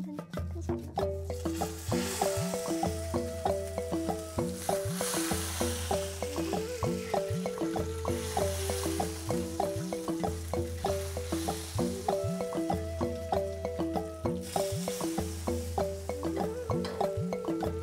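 Smoking-hot oil is poured over Sichuan boiled fish slices with dried chilies and Sichuan peppercorns, a steady hissing sizzle running throughout beneath rhythmic background music.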